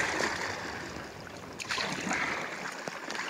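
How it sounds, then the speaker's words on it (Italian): Strong wind roars and buffets against the microphone in a constant rushing blast on a walk at Lake Nemi, Italy, with brief gusts rising and falling. "ammazza c'è un vento dalla madonna!"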